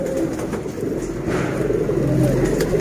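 Paired flying pigeons of a fine breed cooing steadily in a loft, a low murmuring coo continuing throughout with constant background noise.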